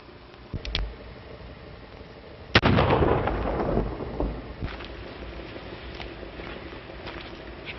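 Gunshots fired at a shirt tail in an old Western, a small click then one sharp loud bang with a long rumbling decay, followed by fainter knocks and rustles, no talk.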